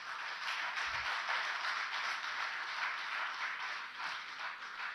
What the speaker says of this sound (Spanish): Dele un fuerte aplauso al Señor entonces.